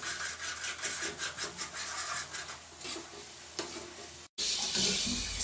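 Beef karahi masala gravy fries in a pan with a steady broadband sizzle, broken by rhythmic stirring scrapes. A brief cut is followed by a brighter, louder sizzle.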